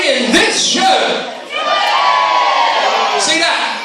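A comedy show audience at Caister cheers loudly, a burst of whoops and shouts from adults and children that dips briefly and then swells again.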